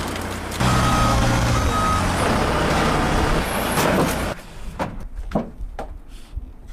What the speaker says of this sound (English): We have a forklift.